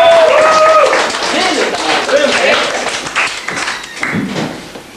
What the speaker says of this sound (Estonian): Aga suure aplaus Ivo